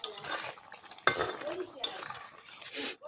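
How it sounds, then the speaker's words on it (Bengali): A spoon stirs fish curry in a pan, giving close scraping and clinking strokes at irregular intervals, with a faint background rustle. "একটু নেড়ে চেড়ে দেবো।"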